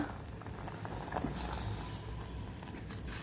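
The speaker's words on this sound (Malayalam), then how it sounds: "മസാലയും ചേർത്ത് തക്കാളിയും ചേർത്ത് ഒരു 5 മിനിറ്റ് നന്നായിട്ട് തിളയ്ക്കട്ടെ" Palakkad-style varutharacha sambar with masala and tomatoes boiling in a pot, a faint, steady bubbling simmer with occasional small pops, close but quiet and without voices.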